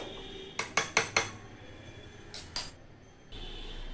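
A metal lid or dish clatters over a pot of steamed carrot batter pitha in a kitchen: four quick close clinks in a row, then two lighter taps after a pause, with a quiet room hum and no talk.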